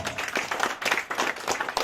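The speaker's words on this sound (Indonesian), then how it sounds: "Sekali lagi kita tepuk tangan semuanya." An audience applauding at an Indonesian neighborhood working meeting in Kebon Baru, Tebet, during a plaque presentation; steady, dense clapping from many hands runs throughout the short moment, fairly close and evenly loud.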